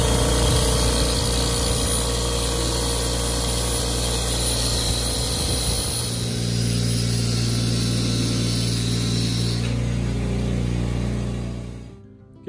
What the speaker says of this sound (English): We're gonna take these screws and hit them on the bench grinder real quick and take some meat off.